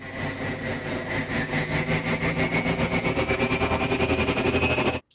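Video game hover tank engine built in Unreal Engine and Wwise, a loud steady mechanical drone with a fast pulsing throb that rises in pitch as it speeds up, then cuts off abruptly.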